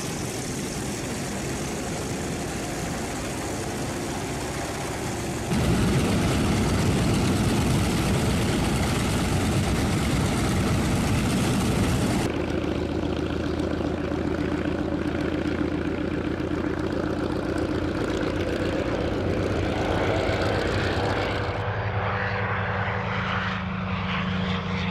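World War II F4U Corsair and Hellcat fighter engines drone steadily and loudly, a dense propeller roar with a low heavy rumble that shifts in tone across the stretch without pause.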